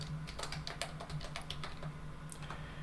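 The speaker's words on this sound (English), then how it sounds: "I'll go ahead and type in a password" A computer keyboard is typed on in quick, irregular clicking keystrokes, close and fairly quiet, entering a password during a software setup, with no voices.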